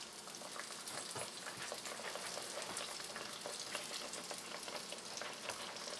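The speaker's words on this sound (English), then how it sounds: "now we are going to fry our aloo pie" Trinidad-style aloo pie deep frying in hot oil, a steady dense bubbling sizzle heard up close with no talk.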